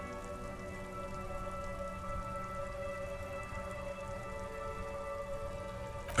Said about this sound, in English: Rain thrumming on the roofs of motor vehicles